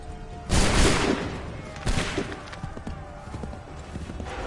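Musket volley gunfire in the Assassin's Creed 3 video game, a loud ragged burst of many shots together followed by a second scattered volley and trailing rumble, with horse hooves and battle noise around.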